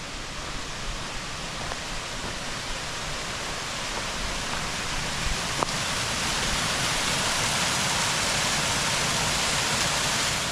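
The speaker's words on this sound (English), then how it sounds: "pretty little waterfall here." A small waterfall on the Turkey Path Trail in Pine Creek Gorge pours with a steady, broadband rushing hiss, constant and close, with no voices.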